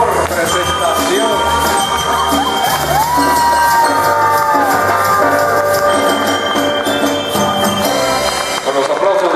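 A loud crowd at a school award night in Peru, cheering, whooping and shouting as a director accepts a trophy for best presentation, with music and ringing tones running underneath.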